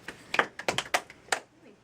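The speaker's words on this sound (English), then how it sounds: "2 claps for Lisa." Sharp hand claps from a single person, a quick irregular run of several claps rather than just two, close and fairly loud with faint voice traces.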